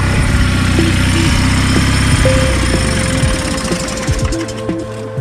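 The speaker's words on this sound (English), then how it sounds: "I need to know if the fuel pump's working." A repaired fuel pump on a BMW E21 runs with a loud, steady droning hum, overlaid by a light rapid rattle and occasional clicks.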